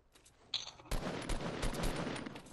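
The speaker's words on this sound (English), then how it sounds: "Now they're shooting at us." Game gunfire in Grand Theft Auto, a quiet burst of rapid shots breaking out after a brief lull and continuing as a dense, crackling volley for under two seconds.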